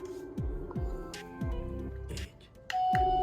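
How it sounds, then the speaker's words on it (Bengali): A toy palace doorbell rings out a short electronic melody of several chiming notes, close by and clear, with light handling noises between the tones. "ওয়াও কি সুন্দর কলিং বেল বাজে"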